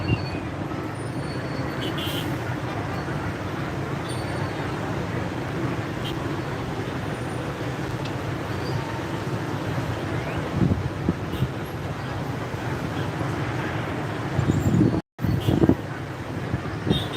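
Dense street traffic on a Saigon road, a continuous roar of motorbike and car engines with wind buffeting the microphone, steady and close throughout with a brief dropout near the end.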